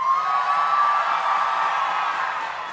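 An outdoor crowd at the March for Life rally cheers and whoops in a sustained broad roar, loud and dense, gradually fading over a few seconds.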